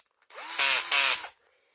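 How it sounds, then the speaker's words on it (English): A power drill with its clutch set to 1 whirs in a short burst, briefly revving higher twice before winding down, close and alone. "if you have a power tool, just turn it down to 1, the clutch"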